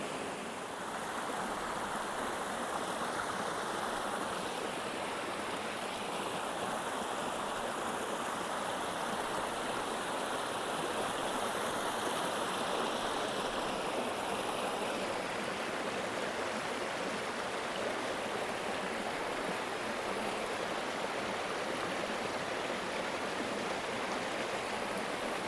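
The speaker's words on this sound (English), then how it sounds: "The steep-sided valley that's coming down, bringing all this gushing water with it" A fast valley stream in Elan Valley gushes steadily and loudly throughout, a continuous dense rush of flowing water with no pauses.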